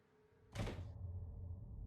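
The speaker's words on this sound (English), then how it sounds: "Somehow, the two doors open on their own, seemingly at the same time." A door swings open on its own in a quiet house, giving a sudden loud whoosh and thunk, followed by a lingering low rumble.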